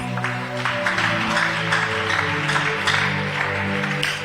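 A church congregation acclaims the Scriptures with sustained clapping and cheering, a dense, steady wall of crowd noise blended with musical tones throughout.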